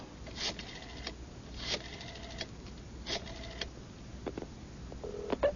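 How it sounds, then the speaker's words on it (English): A telephone is being dialed, with a series of short electronic tones in groups and brief pauses between them, fairly quiet and with no talking. "I think I'll make a phone call."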